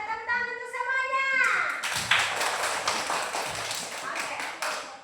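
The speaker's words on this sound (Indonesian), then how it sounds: "Oke, tepuk tangan untuk semuanya." Second-grade schoolchildren in a classroom break into clapping after an adult's brief call, a busy patter of many hands nearby lasting several seconds with some children's voices under it.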